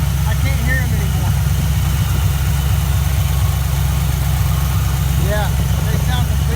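A small-block engine with a Ford E303 cam idles with a valve cover cut open to expose the lifters, a steady loud low drone with faint ticking running throughout, as someone talks over it.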